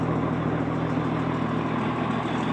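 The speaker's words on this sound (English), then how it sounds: "if you hear that clacking up there, that's the radiator" An old deuce and a half military truck idles with a steady low rumble, its radiator adding a faint rhythmic clacking close by, continuous and unbroken with no talk.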